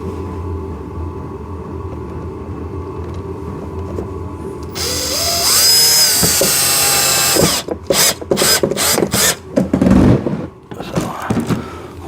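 A power drill drives a screw into a ride-on RC car, with a loud steady whir, then a series of short stuttering bursts as the screw seats. The sound is close and has no talking.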